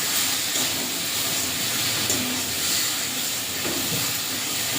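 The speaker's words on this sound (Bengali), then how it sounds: "এবারে মাছটা দিয়ে দেবো। দিয়ে একটু নাড়াচাড়া করে মশলার সঙ্গে মাছটা মাখিয়ে নেবে।" Laylen tika fish is dropped into spice paste frying in oil, releasing a dense, continuous hiss that stays loud and even throughout, with no voices.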